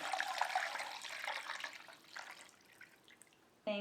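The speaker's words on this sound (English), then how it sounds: "we're gonna add our broth, maybe? Let's see. Fantastic. This is home canned beef broth." Home-canned beef broth pours and splashes into a slow cooker, a soft liquid gurgle that fades and trickles off, followed by a sharp clink at the end.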